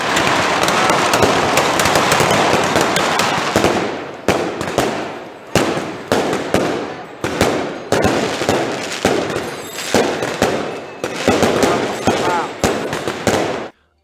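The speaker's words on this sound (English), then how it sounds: "With the street lights turned off, fireworks marked the start of the burning ceremony." Fireworks at the Las Fallas burning ceremony in Valencia, Spain crackle in a dense loud roar, then break into rapid repeated bangs and bursts with short pauses, close and overpowering, with crowd voices faintly underneath.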